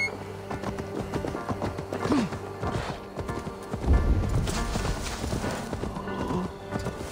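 Rhythmic clip-clop of a horse galloping in Assassin's Creed Valhalla, hooves pounding steadily over game music, with a brief whinny partway through.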